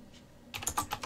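Typing on a Nanoxia Ncore Retro computer keyboard: after a brief quiet pause comes a quick, close run of crisp key clacks, with several sharp strokes in rapid succession.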